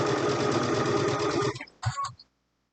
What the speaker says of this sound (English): You only have to pay attention to the first 2 inches of sewing.